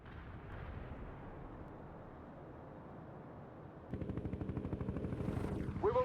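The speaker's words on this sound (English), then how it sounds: "you must support him with artillery fire, Romanov" Artillery barrages and explosions in the World in Conflict war game: a steady rumbling roar of distant fire, then from about four seconds a louder run of rapid, closely spaced booming bursts.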